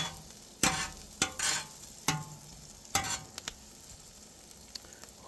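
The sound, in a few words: food sauteing in a pan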